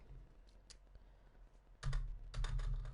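Computer keyboard keys clatter while Fortnite is played, with a few sparse clicks at first, then two dense, louder bursts of rapid typing, close and alone with no talking.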